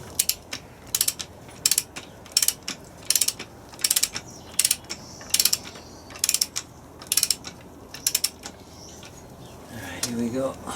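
A torque wrench ratchets in short repeated clicking bursts at a steady rhythm while tightening nuts on a Land Rover Defender TD5 LT230 transfer box, close and crisp over a quiet workshop background.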